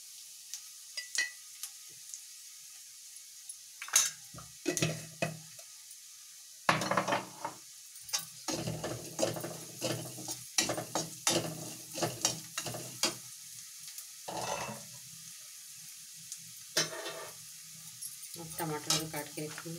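Food frying in a pan with turmeric added, stirred by a spoon that scrapes and clinks against the metal in quick bursts over a soft sizzle, with someone speaking intermittently between strokes.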